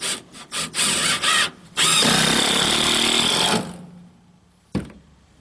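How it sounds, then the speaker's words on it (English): A power drill drives screws to fix a wooden bench onto studs on a tiny house porch, with short bursts of whirring, then a longer sustained run of the screw biting into wood, ending in a quiet pause and one sharp knock. "I'll screw the bench down to those 3 points"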